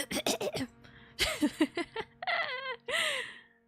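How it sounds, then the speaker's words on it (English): A burst of close coughing opens, followed by gasping, giggling sounds and some vocalizing with rising and falling pitch. "So I might start coughing soon"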